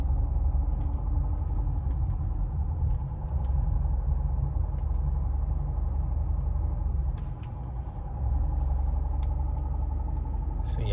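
A 2009 Mercedes E320 Bluetec diesel cruising on the road, with a steady low engine and road rumble filling the interior throughout, dipping briefly in the middle, while someone talks over it.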